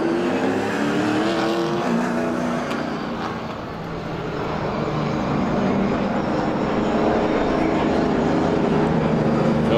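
Race cars back underway at Star Speedway during heat races, a dense, continuous engine roar of the field at speed, dipping briefly and then swelling again, with a commentator's voice mixed faintly underneath.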